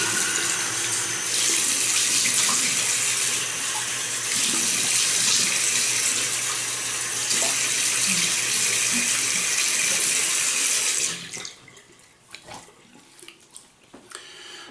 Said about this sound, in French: je vais me rincer la figure puis je reviens